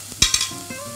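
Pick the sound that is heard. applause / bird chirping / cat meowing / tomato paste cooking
tomato paste cooking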